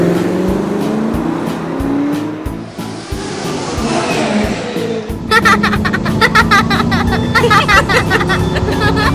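A car driving in the Roblox game Brookhaven, its engine revving and droning close up, with tire squeals and a rising engine pitch partway through, under chatter and game music.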